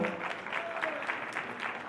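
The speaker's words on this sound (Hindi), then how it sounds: "जोरदार तालियों से स्वागत करें" Applause welcoming a guest at a school event with students, a steady wash of clapping from a gathered audience, fairly distant and continuous, with light murmuring beneath.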